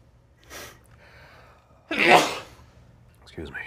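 One loud, sharp sneeze bursts out after a softer intake of breath, close and alone, with a faint breathy sound just after it.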